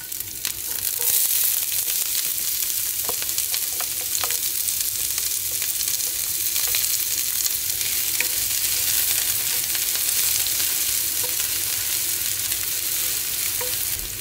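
Onions sauté in a pan for a stir fry, giving a loud, continuous frying sizzle and hiss with faint crackles throughout and no talking.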